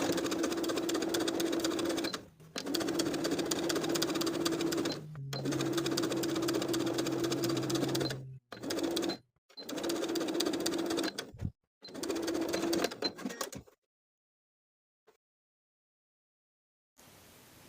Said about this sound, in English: sewing those lining pieces right sides together for another distance of about 2 inches